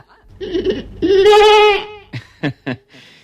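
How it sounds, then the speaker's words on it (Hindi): A sheep bleats once in a long, wavering, strongly voiced call, near and loud, followed by a few short sharp knocks. "बीरबल ने एक भेड़ मंगवा कर कहा,"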